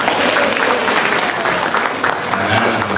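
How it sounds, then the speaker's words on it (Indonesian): A crowd at an IGRA anniversary celebration in Tegal claps loudly and steadily, with voices mixed in under the applause throughout. "tepuk tangan sekali lagi"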